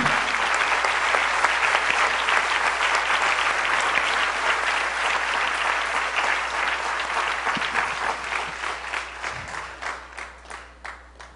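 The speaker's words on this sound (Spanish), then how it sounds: "Dile un aplauso fuerte al Señor" A church congregation applauds loudly during a worship service, a dense sustained wall of clapping that gradually thins into scattered individual claps toward the end.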